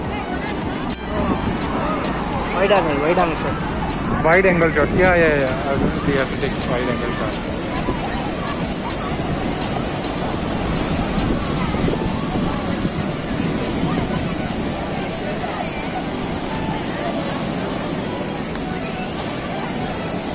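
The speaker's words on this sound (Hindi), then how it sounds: "बहुत ही ज़्यादा आवाज़ है पानी की," Loud sea surf at Marine Beach, Chennai, with a boat nearby, makes a steady broadband roar of waves and wind that fills the whole stretch while people talk close by over it.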